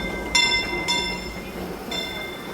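Rumbling inside a moving train, with a few bright metallic clinks and rings ringing out over the low steady rattle.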